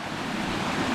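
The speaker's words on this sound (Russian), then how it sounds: "Посмотрите на этот ручей." A mountain stream in Crimea rushes over rock, giving a dense, steady, fairly loud watery roar with no pauses, heard alone.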